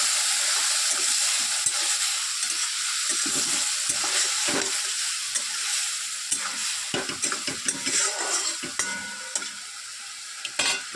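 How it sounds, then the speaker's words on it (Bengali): Spice paste, loosened with a splash of water, being stirred and sautéed in a pan, an ongoing sizzle punctuated by repeated scraping and clattering strokes of the spoon, close and alone. "এবার একটু নাড়াচাড়া দিয়ে কষিয়ে নিই।"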